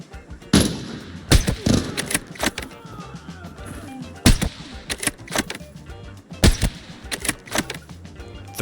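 Gunfire in the video game Arena Breakout: several sharp, loud shots ring out close by in scattered pairs and singles across the span, with rustling movement and faint background noise between them.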